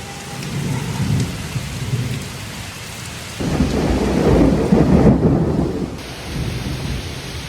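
A Kalbaishakhi thunderstorm with heavy rain, close and loud, with a deep rolling thunder rumble building midway over continuous pouring rain and gusting wind.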